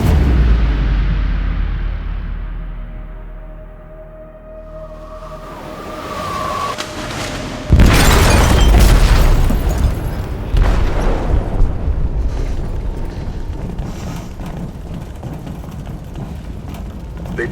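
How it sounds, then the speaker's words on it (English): A loud explosive blast goes off in the hold of a ship in Detroit: Become Human. It hits suddenly, then a long rumbling roar and clattering debris follow, with lower, rolling rumble before it. "detonated an explosive in the hold"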